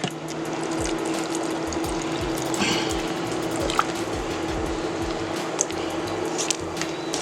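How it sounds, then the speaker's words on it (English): Bubbling tomato sauce for short ribs with a water-and-cornstarch slurry poured in, thick wet popping and squishy glugging bursts repeating irregularly, close and moderately loud with no talk. "once it started bubbling here, I'm going to pour in my slurry"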